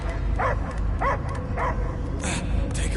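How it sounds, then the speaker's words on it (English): In the Guardians of the Galaxy video game, a dog gives a run of short barks and yips at a moderate distance over a steady low game background rumble. "I hear only barking."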